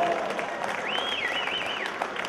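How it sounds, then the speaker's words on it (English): Applause and crowd noise at a high school varsity basketball game, heard as a steady wash with a bright whistle-like tone gliding over it partway through. "Let's have a round of applause for these third graders who have to do basketball."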